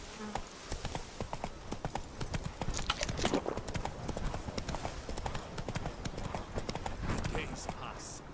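Horse hooves clip-clop steadily in a Witcher 3 game scene, a brisk, even rhythm of close hoof strikes running throughout, with a brief voice speaking over them.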